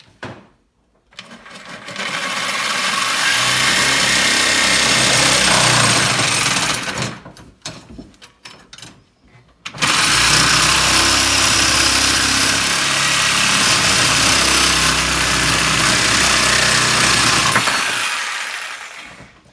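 A reciprocating saw (Sawzall) cuts through plumbing pipe during a bus conversion, running loud and close in two long buzzing bursts separated by a short rattling pause.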